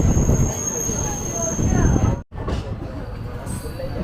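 The Bhagalpur Jaynagar Intercity Express rolls along with a loud, steady rumble of wheels and carriages, broken by one brief sharp dip before the noise resumes.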